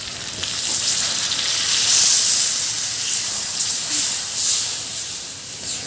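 Loud, steady sizzle and hiss of water hitting a very hot pan of Bengali chicken kosha, swelling and easing across the stretch with steam crackle, no talking.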